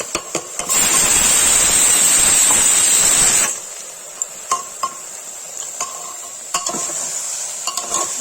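Tomatoes tipped into a hot frying pan for a Kashmiri-style pea and potato curry give a loud, bright burst of sizzling lasting a few seconds, then it settles into quieter frying with scattered clinks and scrapes of stirring.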